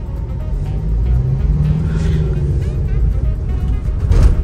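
Traffic is jammed on a busy road, with a continuous low rumble of idling and creeping engines. A vehicle passes close and revs near the end.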